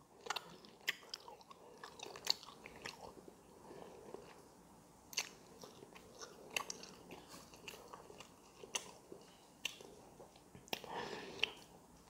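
Spicy chocolate mango is chewed close to the mic in an ASMR mukbang, with repeated soft wet bites and mouth sounds at an irregular pace, quiet and intimate, with faint whispery sounds in between.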